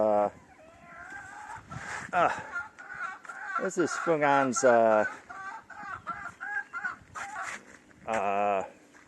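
Chickens cluck repeatedly at close range in Long Hai, with several overlapping birds calling in bursts and a few louder squawks rising above the flock.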